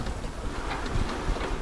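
Wind rushes across a cruising sailing yacht as it gathers speed in fresh breeze, a steady broadband roar with a low rumble beneath and slight gusting swells, close to the microphone and without voices.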